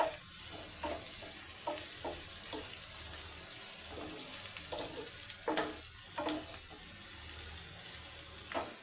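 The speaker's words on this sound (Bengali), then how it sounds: "আজকে আমি আলু ভাজি করব বলে আমি এই ফ্রাই প্যানটা বের করলাম" Potatoes fry in a brand-new frying pan, giving a soft, steady sizzle with intermittent stirring scrapes and clicks, fairly quiet throughout.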